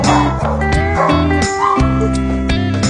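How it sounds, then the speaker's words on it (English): Shelter puppies being let out of their runs: a rapid, dense stream of overlapping high yips and barks, loud and close, continuing nonstop. "Time to let out the puppies."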